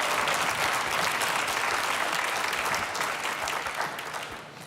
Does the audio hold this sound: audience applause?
yes